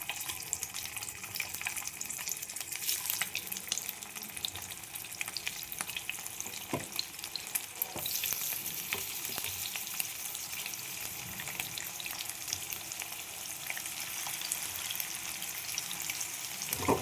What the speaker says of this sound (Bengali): দেখো ডিমের পিসগুলো আমার তোলা হয়ে গেছে। আমি এবার ভেজে নেব কড়াইয়ে। প্যানের মধ্যে তেল দিয়ে দিয়েছি।